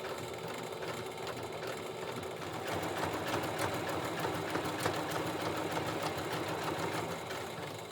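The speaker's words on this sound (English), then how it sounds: "then you take it to your sewing machine and do a zigzag stitch, a wide zigzag stitch across" A sewing machine stitches a wide zigzag along a seam on a jelly roll pillow, a continuous fast mechanical whirring hum that is close and steady throughout, with no talking.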